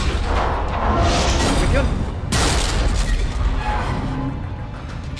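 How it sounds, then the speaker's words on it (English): Space fleet battle in the video game Mass Effect 3, with warships opening fire: loud booming blasts and crashing explosions over a dense roaring background, and a voice speaks briefly among the barrage. "All ships open fire."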